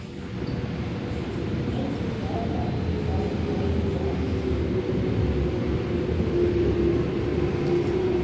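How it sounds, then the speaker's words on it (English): A Sydney Metro train pulls in at a Macquarie University station platform with a steady, loud rumble and rising whine of wheels and motors, continuous throughout without speech. "And a Tallawong service now arriving on platform number two."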